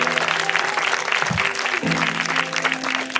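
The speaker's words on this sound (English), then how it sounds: "Can we have a round of applause for Gabriella?" Wedding guests applaud at a reception at Liopetro Wedding Venue, a steady, dense clapping from a crowd sustained for several seconds over a constant room hum.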